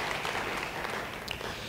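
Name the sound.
congregation applauding in church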